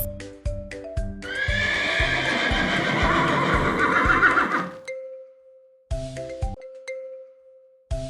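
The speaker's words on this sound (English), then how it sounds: "This is a horse." A horse gives one long, shaky neigh over a light plucked music loop, then a chime rings out before the beat resumes.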